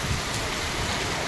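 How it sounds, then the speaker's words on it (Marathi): Heavy rain pours in the narrow lanes of Kashi (Varanasi), a dense, loud, continuous hiss of falling water with no voices. "काशीमध्ये आज जोरदार पाऊस आला आहे"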